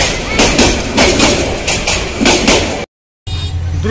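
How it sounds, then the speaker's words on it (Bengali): Bangladeshi passenger train hauled by locomotive 2910 arriving, a loud close rumble with rhythmic clanking of wheels over rail joints that cuts out briefly and then returns with a steady low hum. "দ্রুতযানের অপেক্ষায় থাকতে থাকতে আরেকটি ট্রেন চলে আসলো, ব্রহ্মপুত্র মনে হয় এটা, লোকোমোটিভ 2910"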